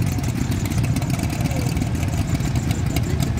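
French tractor engine idling at a steady low rumble, close and continuous, with a dense low-end throb and no pauses throughout.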